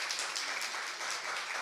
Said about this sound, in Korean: 그래서 우리 박수 한번 쳐드리겠습니다.